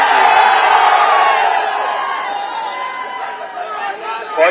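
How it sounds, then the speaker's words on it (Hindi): Large crowd at a political election rally in Kaushambi cheering and chattering loudly, a dense sustained roar with whoops that swells at the start, eases slightly, then rises again at the end. "ये बुलाई हुई भीड़ नहीं है, अपने साधन से आई हुई भीड़ है"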